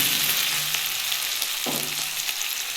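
Ginger paste fries in a hot pan for a ridge gourd fritter curry, a close, steady sizzling hiss with a few soft stirring scrapes, no talk.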